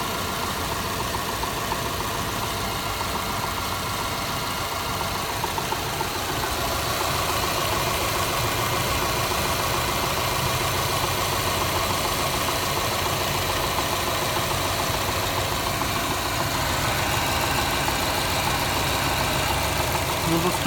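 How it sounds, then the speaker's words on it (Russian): A car engine idles with a slight shake and a knock, a steady, continuous mid-low rumble heard close up for the whole stretch without change. "еще потряхивает маленько мотор."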